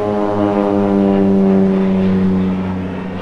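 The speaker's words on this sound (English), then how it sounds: "Why is there always airplanes?" A propeller airplane drones overhead at a skate spot, a loud steady engine hum with strong tonal harmonics that holds and fades slightly at the end.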